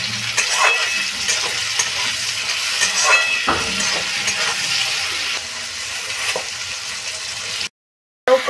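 Tomatoes frying in a hot pan for a Bengali taro curry, a continuous close sizzle with intermittent scraping and stirring clatter, then a brief silent gap near the end.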